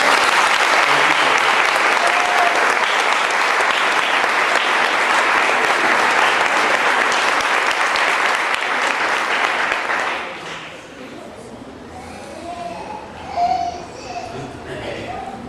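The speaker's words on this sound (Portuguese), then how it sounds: "Então aplauda o Senhor." Church congregation at a tenth-anniversary service applauding loudly and steadily for about ten seconds, then the clapping drops away, leaving quieter room murmur and scattered voices.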